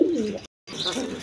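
Lahori pigeons at a pigeon seller's stall giving a brief, low, throaty coo close by, cut by a short gap and followed by more soft cooing with some background noise.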